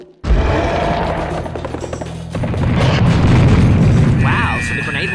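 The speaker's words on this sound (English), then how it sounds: "so the grenade launcher actually works up close range" A grenade launcher round in Serious Sam HD: The First Encounter bursts at close range with a sudden loud boom, followed by a sustained rumbling roar and other game effects.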